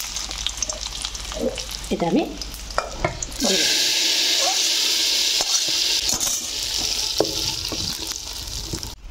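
Cashews and raisins frying in ghee in a kadai: a few clinks and a short spoken phrase, then a loud, steady, hissing sizzle that bursts up and holds close.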